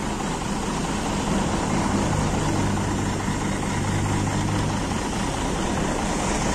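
A bus with a Mercedes-Benz OH 1836 engine and air suspension idles nearby, a steady low diesel rumble holding constant throughout with no talk.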